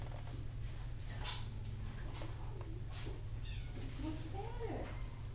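An older cat meows in a shelter group room, a few soft rising meows near the end over a steady low hum, with a person talking quietly at times.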